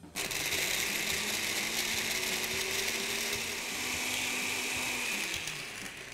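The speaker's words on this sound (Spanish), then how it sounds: "Y si no, con la licuadora vamos súper bien." A blender whirs continuously, mixing an aguardiente sour cocktail, with a loud steady motor hum and grinding whine that starts abruptly and runs for about six seconds before easing slightly at the end.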